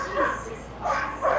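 A guard dog during bite training gives a few sharp, whiny barks and yips in quick succession, close and fairly loud, mixed with a person's voice.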